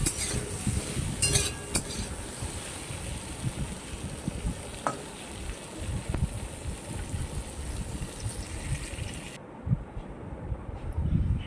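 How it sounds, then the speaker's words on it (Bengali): A spatula scrapes and stirs through frying eggplant with salt in a pan, over a continuous sizzle, with a few metallic clinks. "নুন দিয়ে ভালো করে নাড়াচাড়া করে নিয়ে এবার আমি বেগুনগুলোকেও তুলে রেখে দেব।"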